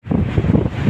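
Strong wind buffets the microphone outdoors while a Vietnam-style kite flies high, a dense roaring rush holding steady for about a second with no voices.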